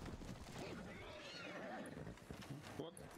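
A horse in Red Dead Redemption 2 roleplay gives a shrill whinny over game ambience and clattering, while people talk excitedly throughout.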